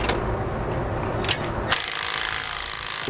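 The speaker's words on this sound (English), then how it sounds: "I'm going to grab an 11/16 socket and wrench, and I'm going to tighten up the bolts that are holding my clamps in place." An 11/16 socket and wrench ratchets to tighten clamp bolts on a 2012 Tiffin Allegro motorhome's rear anti-sway bar, a steady, rapid clicking heard close and fairly loud after a burst of broadband noise.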